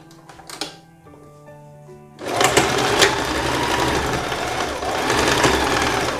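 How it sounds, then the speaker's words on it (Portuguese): A sewing machine stitches a straight seam on a blouse, first a few slow, uneven stitches, then a fast continuous rattling whir that runs steadily up close. "Agora a gente vai passar aqui uma costura reta para ir fechando."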